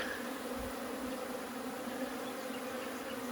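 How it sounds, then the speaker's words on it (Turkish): A honeybee colony swarms out of a hive, a dense, steady buzzing drone of many bees that holds constant throughout without a break, with no voices. "Bu sefer de 3 numaralı kovan oğula gidiyor."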